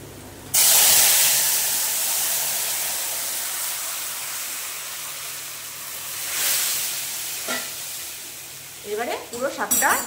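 Black cumin seeds hit hot oil for a spinach curry and erupt into a loud, close, bright sizzle that gradually fades to a steady hiss, with a voice briefly at the end.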